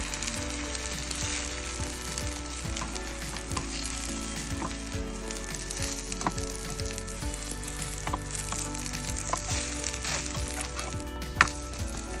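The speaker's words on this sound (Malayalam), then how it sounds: "ഒരു പാൻ വെച്ച് ഓംലേറ്റ് ഇട്ട്" Steady, close sizzle of an omelette frying in a pan, a continuous crackling hiss with small pops throughout and no voices.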